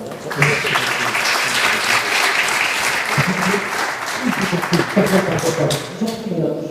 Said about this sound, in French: je vais vous demander d'applaudir vos 4 intervenants